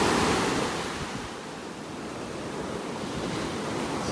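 Rough ocean surf breaking on a beach in North Naples, Florida, on a morning walk: a steady, loud, broad wash of waves with wind, continuous and without voices.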